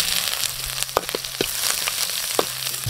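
Ginger and garlic sautéing in a hot pan, a steady loud sizzle and crackle with a few sharp clicks of a utensil stirring against the pan, no talking.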